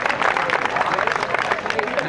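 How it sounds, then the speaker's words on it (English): Applause at an outdoor groundbreaking ceremony for a park, steady broadband clapping from a crowd lasting the whole moment, fairly loud with a dense, continuous patter. "give the building department a round of applause"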